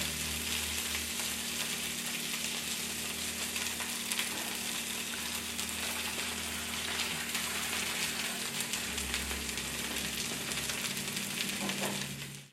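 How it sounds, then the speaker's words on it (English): Frikadeller meatballs frying in a pan, giving a continuous, even sizzle with a steady low hum beneath, heard close for several seconds with no talking. "They will tilt them up and make like a little triangle and fry them like that."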